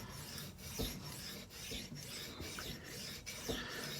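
A Wade & Butcher straight razor is stroked across a sharpening stone, giving a quiet, close, continuous rasping scrape with faint rhythmic pulses of back-and-forth strokes.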